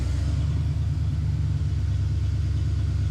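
The Tickle Pickle custom car's engine idling just after starting, a steady low rhythmic rumble with an even pulsing beat, close and loud with no voices.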